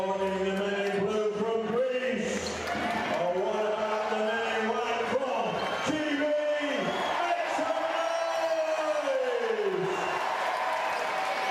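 Basketball crowd at a FIBA European game cheers after a play, a dense sustained roar with voices rising and falling over it throughout.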